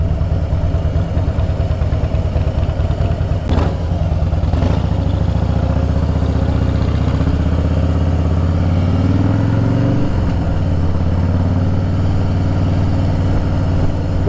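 A Harley-Davidson Fat Boy engine idles close by with a loud, lumpy low rumble, a couple of sharp clicks early on and a brief rev near the ten-second mark before settling back to idle.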